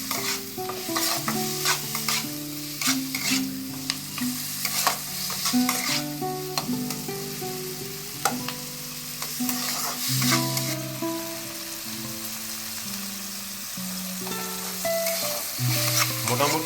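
Chicken sandwich filling stirred and fried in a pan: a steady sizzle broken by repeated scraping spatula strokes, close and fairly loud, with background music throughout.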